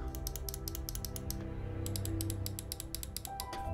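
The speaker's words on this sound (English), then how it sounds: "they give off a quite nice, quiet, tactile click" Quiet, tactile side-button clicks on a Logitech G900 wireless gaming mouse, a dense run of crisp, close clicks in two bursts with a short pause between, heard alone with no talking.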